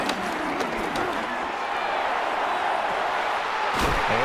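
Crowd noise swells through a stadium in an American football video game, a steady distant roar with a few sharp thumps and a commentator's voice over it.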